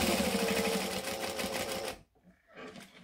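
A sewing machine top stitching along a fabric edge about an eighth of an inch in, running in a steady rapid whirring chatter for two seconds before stopping, then a brief faint resumption.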